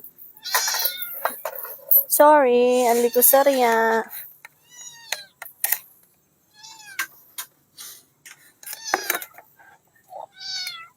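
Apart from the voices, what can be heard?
cat meowing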